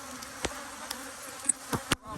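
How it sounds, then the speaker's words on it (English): Bees swarm around a beekeeper during a quick honey super pull, their buzzing a low, faint hum broken by several sharp, brief buzzes as individual bees zip close past. "Not a lot of them are stinging, but they're swarming me."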